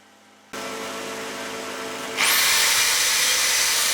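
A power tool whines up on an aluminium wheel rim, first a steady motor hum, then a louder, harsher grinding as the abrasive bites into the weld to sand off impurities, close and continuous.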